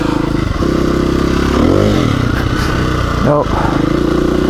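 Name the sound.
motorcycle engine revving during wheelie, throttle only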